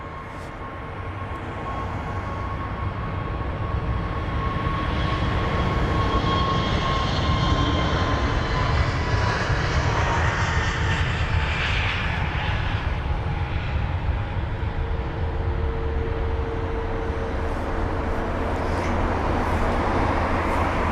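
British Airways Airbus A321neo, a five-year-old jet bound for Lisbon, taking off at London Heathrow: a loud, steady engine roar builds over the first seconds and holds for about twenty seconds with a slowly sliding whine, no voices.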